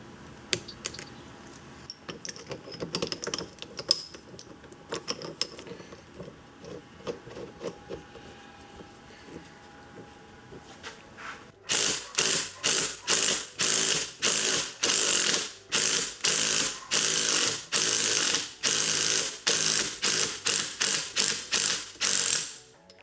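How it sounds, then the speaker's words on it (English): Gear puller working a bearing and gear off the shaft of a Toyota W56 manual transmission: quiet handling and clinks at first, then a long run of loud, rapid ratchet clicks in repeated bursts, close up with no talk. "I'm going to use a puller to pull off this bearing and the gear behind it"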